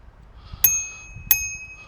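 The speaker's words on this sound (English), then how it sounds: "You got a little bell here." A small bell on the handlebars of an Acer Series 3 electric scooter rings twice, two bright, close, evenly spaced dings with ringing tails.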